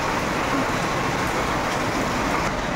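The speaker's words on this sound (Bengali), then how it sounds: "একদম লাগার সাথে সাথেই দেখো ঝমঝমিয়ে বৃষ্টি শুরু হয়ে গেল" Heavy monsoon rain pours down steadily, a dense, loud, continuous wash of noise with no pauses and no voices.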